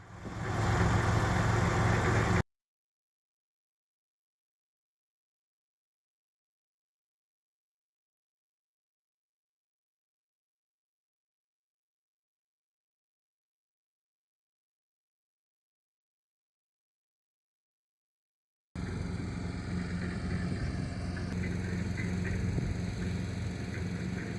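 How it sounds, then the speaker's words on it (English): A tractor engine clearing between vineyard rows idles with a steady mid-low rumble, heard briefly, then a long stretch of silence before the running engine returns. "it was actually a tractor doing some springtime clearing work between the vine lines"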